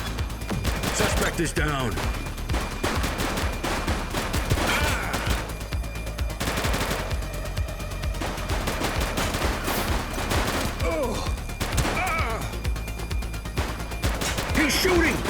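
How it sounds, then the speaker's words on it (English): Police shootout in The Precinct, with continuous bursts of rapid gunfire and impacts cracking throughout, close and loud, while officers shout over the shooting. "Light them up! Shots fired!"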